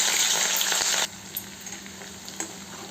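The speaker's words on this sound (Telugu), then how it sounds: "అదే ఆయిల్లో పచ్చిమిర్చి వేసేసుకుంటాం" Green chillies drop into hot oil left from deep-frying onions, a loud bright sizzling burst that cuts off abruptly after about a second, leaving a low simmer with soft scrapes and a small clink.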